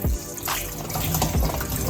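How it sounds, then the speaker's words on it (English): Hot water running and splashing over a goat head being washed for Jamaican goat head soup, a continuous close tap flow with bubbly, dripping surges. "you have to wash it down with the hot water, soak it in the hot water, and vinegar and lime juice"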